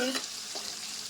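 A paste of onion, chilli, coriander and mint sizzles in hot oil with spices in a pan for a chicken curry. A faint, steady frying hiss runs throughout, with a brief stirring scrape near the start.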